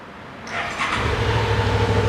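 Stock exhaust on a 2021 Suzuki V-Strom 650XT motorcycle as the engine starts: a brief starter whir, then the engine catches and settles into a steady, close idle rumble. No one speaks.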